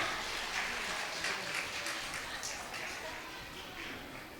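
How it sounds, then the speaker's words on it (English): Parents at a preschool annual day celebration applaud a student receiving a regularity prize, a steady mid-distance patter of many hands that gradually thins and softens over several seconds. "Give him a big clap."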